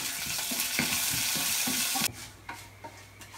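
Mustard seeds, urad dal and dried chillies crackle and sizzle loudly in hot oil while being stirred, then the frying cuts off abruptly into a quieter background with a few soft clinks.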